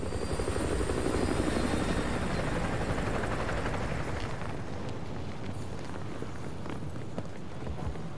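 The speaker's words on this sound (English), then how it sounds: "Enemy helo patrolling the perimeter." Enemy helicopter from the video game Call of Duty Modern Warfare 2 Remastered, a loud steady rotor thump and engine roar that holds for the whole stretch, with the low chop shifting slightly as it approaches.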